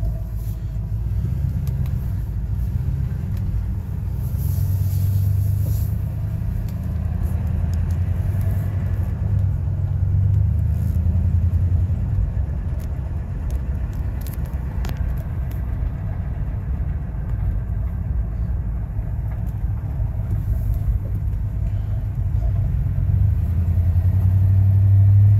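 A 1999 Ford F-150 pickup engine idles steadily after startup, a close, continuous low rumble with an even throb and no voices.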